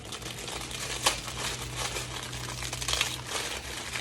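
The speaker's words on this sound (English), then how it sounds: "Crush the noodles." Dry noodles crushed inside a crinkly plastic package in a home kitchen, a continuous close crackling and crumpling with a few sharper crunches, no talking.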